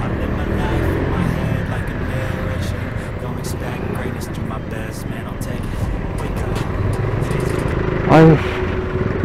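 Traffic jam of cars and motorcycles on the busy Solo–Jogja road near Klaten: a dense, steady engine rumble with passing motor whines, close and continuous, a short horn-like tone near the end, and voices talking over it.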